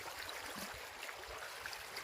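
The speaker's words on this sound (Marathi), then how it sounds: "नदीची धार आहे बघा किती भारी पाणी वाहते बघा" A fast river current flowing past, a faint, steady rushing wash of water heard from nearby.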